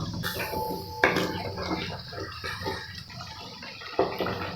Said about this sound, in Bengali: মশলাগুলো হালকা নেড়ে চেড়ে উষ্ণ গরম জল দেব